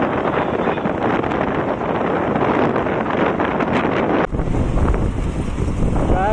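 Strong wind buffets a microphone on a moving vehicle near an airport in a loud, continuous roar, with a brief dip before the gusting rumble resumes.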